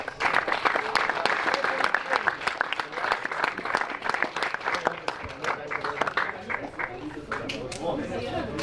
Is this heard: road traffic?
no